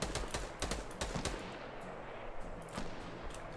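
Gunfire in the battle-royale game Fortnite: rapid bursts of sharp shots, dense at first, then thinning to scattered reports and a few later bursts, loud and with no talking over it.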